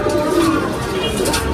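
Golden Kamagar pigeons coo close by, low soft calls repeating over a steady background murmur.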